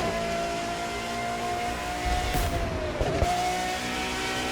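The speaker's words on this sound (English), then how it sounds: "Those engines are gonna make for a loud wake-up call if anyone's sleeping in this resort area today." Hypercar engines drone steadily in a race through woods on rough asphalt in The Crew 2 video game, a sustained loud tonal engine hum with brief whooshes and shifts near the middle, no talking.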